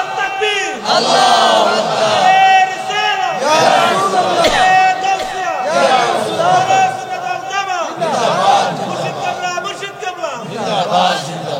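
At a Bengali Islamic sermon gathering, a large crowd shouts takbir, "Allahu Akbar," in loud repeated waves of massed voices that swell and overlap, close and sustained throughout.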